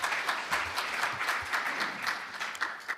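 An audience at a forum on new technology certification applauds a presenter, dense steady clapping from a room full of people, with no speech over it.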